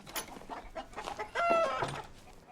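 A chicken clucks in a film scene, a few short squawking calls over a busy background with faint music and rustle, close and moderately loud, with no speech over it.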